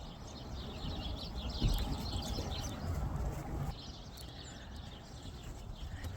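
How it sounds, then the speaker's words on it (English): Small birds chirp and tweet repeatedly around a backyard birdfeeder during a February snowstorm in Maryland, their calls fairly faint over a steady outdoor rush of wind and ambient noise. "Lots of birds over there."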